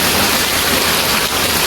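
Heavy rain pours down in a dense, steady roar of broadband noise, loud and continuous throughout with no talk.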